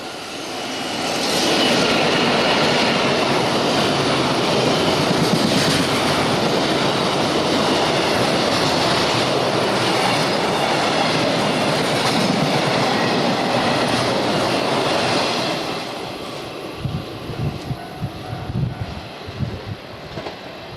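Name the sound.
downbound freight train passing on Tsugaru-Kaikyo Line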